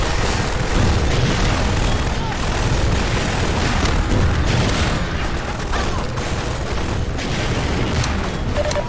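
Heavy, continuous booming and rumbling in Half-Life 2 as a launched tank hits the player, a loud, dense barrage of blasts and crashes filling the whole stretch.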